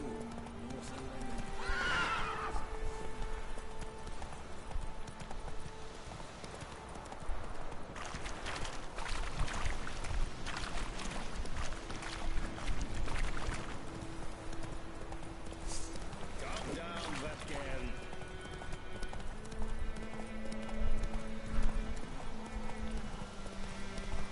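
A horse in The Witcher 3 game clip-clopping at speed with whinnies breaking out, hooves rhythmic and steady throughout while a voice talks over it now and then.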